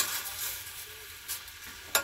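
Strawberry preserves with a splash of lemon juice get stirred in a pot, a soft steady sizzling swish with faint scraping, then a sharper clink near the end.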